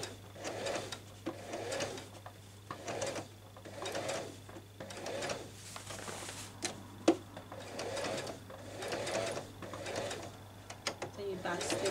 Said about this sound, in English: Make sure everything is not squashed when you're sewing it. Just be moving your fabric as you are stitching it.